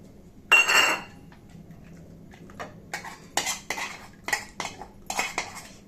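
Boiled dal is ladled into a bowl: one loud scraping clatter of metal utensils, then a string of sharp, irregular clinks and taps of steel spoon against vessel, close by.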